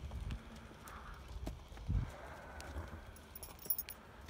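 Small horses and ponies moving around a paddock make irregular clip-clop hoof thuds at close to middle distance, with light metallic jingling and faint outdoor background.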